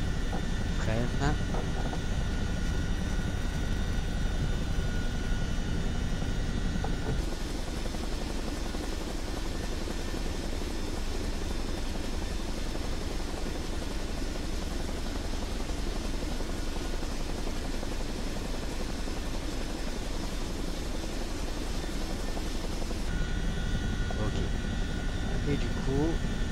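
A simulated CH-47 Chinook helicopter taxis slowly on the ground in Flight Simulator 2024, its rotor and turbine noise forming a steady, unbroken drone that shifts in tone partway through.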